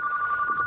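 A telephone rings indoors with a steady, repeating electronic trill, loud and close, heard alone for a brief moment.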